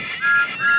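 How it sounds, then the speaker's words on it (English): A steam train whistle from a Thomas & Friends engine sounds in two quick, loud, shrill blasts, with a brief dip between them. "Then he heard a whistle."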